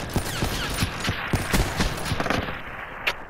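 Rapid bursts of gunfire from a 1v1 shooter video game match, sharp repeated shots in irregular clusters, loud and close, with no talking.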